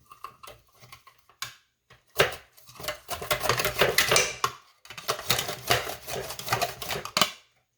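Cucumbers sliced on a mandolin for dill pickle chips: rapid, crisp rhythmic clicking strokes, close and clear, in short bursts at first, then long continuous runs with brief pauses.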